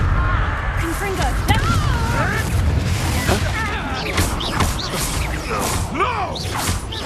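Spell explosions and whooshing impacts from a Hogwarts Legacy wizard duel, including a Confringo blasting spell. Loud booms and crashes run continuously under excited voices and game effects.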